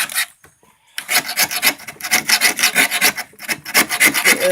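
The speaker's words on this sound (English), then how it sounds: "now the palm sander does a good job just smoothing this old bed frame metal from the trash" A palm sander smooths old bed frame metal salvaged from the trash, giving a loud, steady rasping scrub that pulses in quick strokes after a brief quiet start.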